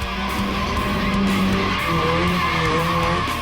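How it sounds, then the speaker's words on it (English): A small RX 323 does a burnout with its tires skidding and squealing, a continuous loud engine roar with wavering tire screech tones, heard from nearby at a motorsport event. "Now check out the burnout styles of this little RX 323."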